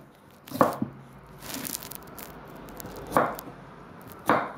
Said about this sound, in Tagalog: Yung labong na hinihiwa niya.